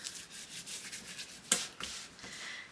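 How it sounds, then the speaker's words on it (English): A tool burnishes a paper crease on a gatefold snow-themed scrapbook album, making soft close rubbing strokes with one sharper scrape partway through and no talk. "All right, so I am going to burnish that down."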